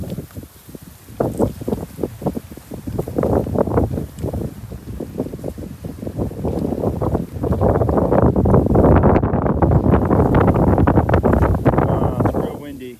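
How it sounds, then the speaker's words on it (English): Strong, gusty wind buffets the microphone with a loud, roaring rumble that swells and grows more constant in the second half. "It's real windy."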